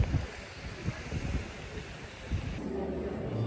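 Wind blows outdoors near a temple in New Jersey, buffeting the microphone in low, uneven gusts and rumbles, close and moderately loud with no talk.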